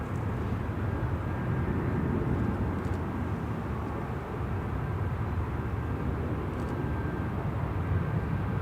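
An airliner lands at Manchester Airport as a steady, broad rumbling roar that holds evenly at a distance for several seconds, with no voices.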